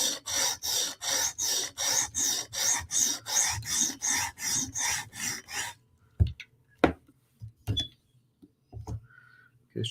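A Hinderer knife is worked on a TSProf Kadet guided sharpener, making about fourteen steady, even rasping strokes. These give way to scattered light clicks and taps in near silence.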